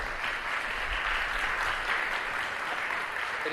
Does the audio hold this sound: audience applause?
yes